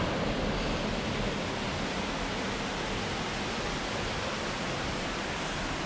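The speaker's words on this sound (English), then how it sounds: "I can hear rushing water, so there must be another fall." Rushing water of a waterfall at Dolgoch Falls in Snowdonia, a steady broadband roar that stays loud and unbroken throughout, with no voices.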